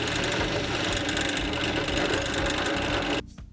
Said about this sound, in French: Je perce quelques trous chanfreinés à l'aide de ma perceuse à colonne.